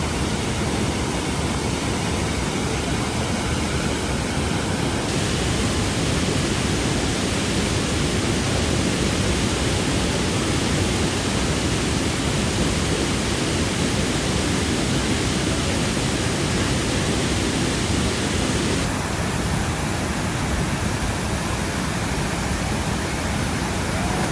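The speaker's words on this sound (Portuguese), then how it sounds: "Cachoeira da Iracema" Iracema waterfall in Presidente Figueiredo, Amazonas, a loud, dense and unbroken roar of falling water, close up and constant for the whole stretch, with no voices.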